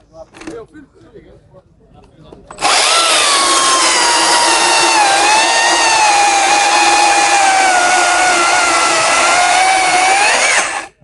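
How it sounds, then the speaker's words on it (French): A STIHL MSA 300 battery chainsaw with a long guide bar runs in its eco felling mode, first speed. After a quiet start with faint sounds, it whines loud and close for about eight seconds, the pitch wavering slightly under load before it cuts off. "On va faire un essai maintenant en se mettant en première vitesse, qui est le mode éco, le mode abattage"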